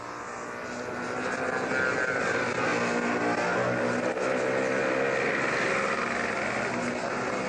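A control-line model aircraft with a very fat, Russian-style hardwood fuselage flies at a world championship, its small engine a loud, continuous buzzing drone that swells in the first second, then holds steady throughout.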